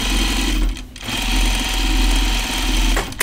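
A home sewing machine with a twin double needle runs steadily while top stitching a denim-style Audrey Jean jacket. The loud whirring motor drops out briefly near the start, then resumes in a long unbroken run.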